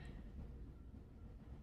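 A train runs on rails with a steady, low rumble and faint rolling rattle, continuous and moderately quiet for under two seconds.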